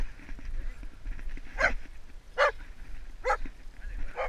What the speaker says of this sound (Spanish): Donde viene el perro, mira.